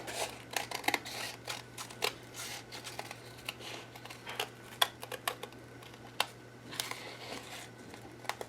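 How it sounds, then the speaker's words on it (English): Scissors snip through paper to cut out a heart shape, giving soft, intermittent crisp clicks and rustles at close range over a faint steady hum. "I'm going to cut out a heart."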